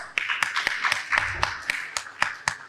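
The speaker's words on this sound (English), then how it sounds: "Give a round of applause." Scattered, sparse clapping from a small audience at a healthcare panel discussion, with individual sharp claps spaced irregularly rather than a full roar.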